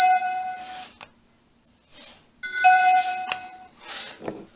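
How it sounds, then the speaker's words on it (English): An X Sense home security kit chime for the front door sounds twice, each a bright ding-dong with ringing tones that fade out, the pair separated by a short pause with some light clicks and rustle around them. "So we have the chime set for the front door to sound like this."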